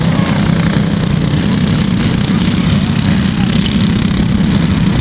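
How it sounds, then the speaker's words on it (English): Go-karts race on a late model short track at ORV on a Saturday night, their engines forming a loud, steady, continuous drone with no breaks. "Late model, short track, go-kart racing at its finest right here at ORV"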